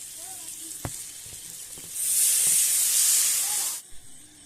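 Mustard paste hitting frying mourala fish in hot oil, a sudden loud hiss of sizzle and steam lasting about two seconds before fading back to a quieter fry.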